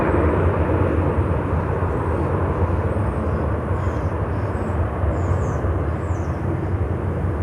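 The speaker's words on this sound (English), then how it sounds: "American Airlines" An American Airlines Boeing 737 MAX 8 jet roars steadily and loudly at an airport, a continuous broadband engine rush with no talking.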